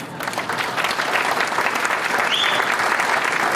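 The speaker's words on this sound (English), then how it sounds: "big round of applause" Dense, steady applause from a hall of fame induction audience, loud and sustained throughout with no break.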